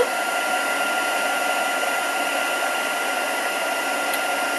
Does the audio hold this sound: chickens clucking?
no